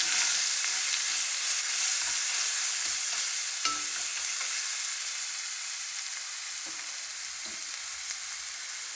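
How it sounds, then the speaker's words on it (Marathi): A paste of coconut, ginger, coriander and garlic with a few curry leaves sizzles steadily while being sautéed in a pan, a continuous hiss of frying with occasional soft stirring scrapes and no talking. "खोबरे, आले, कोथिंबीर, लसूण पेस्ट, परतून घ्यायचे"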